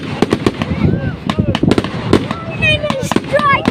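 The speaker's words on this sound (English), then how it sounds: "That's a lot of fireworks." Dense fireworks display over Pounawea with rapid cracks and booms crowding together, whistling and crackling streaks rising between blasts, close and loud, while people talk and exclaim over it.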